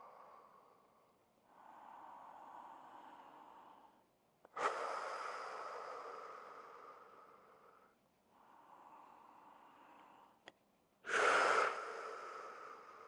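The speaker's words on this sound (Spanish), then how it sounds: "mientras voy respirando profundo" Slow, deep breaths during a seated knee exercise in a Spanish-language knee-pain routine, heard alone and up close: long steady inhales and exhales, two of them ending in sharper, louder gusts.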